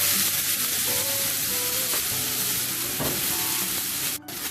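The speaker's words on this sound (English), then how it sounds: "then we will add chopped onions." Chopped onions sauté in hot oil with asafoetida in a pan, giving a loud, dense, continuous sizzle and hiss with faint stirring, close up and without any talk.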